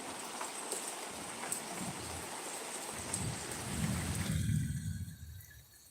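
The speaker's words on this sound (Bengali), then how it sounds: "বৃষ্টি দেখতে এসেছিলেন এদিকেও সবাই" Steady rain pours down in a dense, hissing wash with a deeper rumbling swell partway through, close and continuous, then fades at the end.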